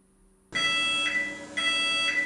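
A broken alarm in a Scratch 3 project sounds twice after a half-second lull, each time a loud, sustained electronic beeping tone with a bright high pitch, alone with no talk.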